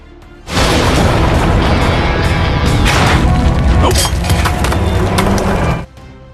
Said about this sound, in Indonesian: tembakan Oleg tadi bekerja dan membuat seluruh tiang besi jembatan itu roboh